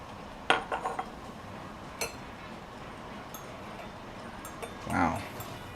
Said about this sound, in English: just a little bit more sugar than I would normally put. Give that a quick stir.